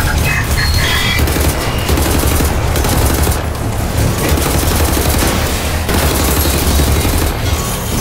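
Rapid gunfire aimed at a robot in the video game Wolfenstein: The New Order, loud sustained bursts of automatic shots with booming impacts running through the whole stretch.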